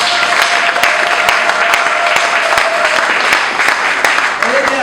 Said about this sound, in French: On peut applaudir pour une s'il vous plaît.